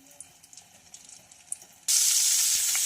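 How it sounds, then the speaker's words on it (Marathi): Oil and butter hit a hot pan for kurma, bursting into a loud, sudden hissing sizzle that holds steady after a quiet stretch of small clicks and rustles. "पॅन मध्ये मी 2 चमचे तेल घातलेला आहे, त्याचबरोबर बटर सुद्धा घातलेला आहे"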